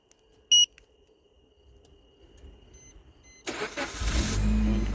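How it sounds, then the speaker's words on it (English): A Suzuki SX4 is started through a smartphone remote starter: a short beep sounds, then after a quiet pause the engine cranks and catches into a steady, loud idle nearby. "So let's start the car."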